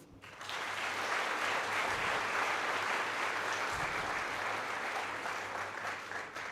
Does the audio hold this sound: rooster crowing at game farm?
no